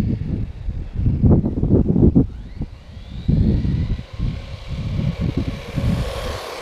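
A Hyper Go H16BM 1/16-scale brushless 4WD RC truck runs at 70% throttle, its motor whine rising and falling in steady bursts over rumbling wheel and ground noise as it speeds past, with no talking.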